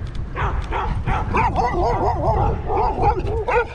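Several dogs, including a blue merle Australian Shepherd, bark and yip in quick bursts close by, with whining pitch rises, while a person briefly speaks over them.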